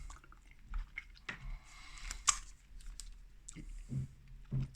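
Someone bites and crunches a cheap strawberry lollipop, making irregular close crunches and squishy chewing clicks scattered across a few quiet seconds.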